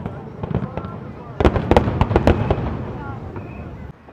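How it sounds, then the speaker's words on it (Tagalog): Fireworks bursting at the Macau International Fireworks Display Contest, a quick run of sharp cracks and booms, some clustered in rapid bursts, heard from a crowd with people talking nearby. "So ayan yung fireworks sa likod."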